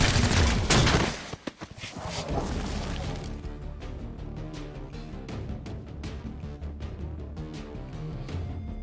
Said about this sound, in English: Fire at that commando.